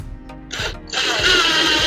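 A power drill drives screws into the wooden picket-fence boards of a raised garden bed. A short motor whine rises and then settles into a steady, close, buzzing grind that lasts about a second.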